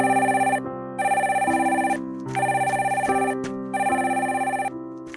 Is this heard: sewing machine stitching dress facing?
no